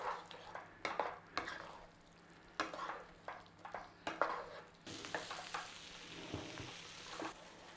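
Mushroom madras simmering in a pan after a splash of water, with repeated scraping stirs and clinks of a utensil against the pan over a low sizzle, quiet and close, with no voices.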